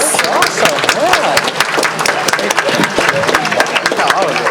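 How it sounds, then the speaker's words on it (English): An audience applauds a team with dense, fairly loud clapping that carries on throughout, crowd noise and some voices mixed in. "Let's give this team a round of applause."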